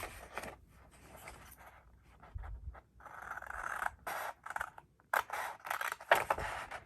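Long scissors snipping paper at a craft table while working in a scripture journal, a series of short crisp cuts in irregular bursts, close and fairly quiet, with no talking.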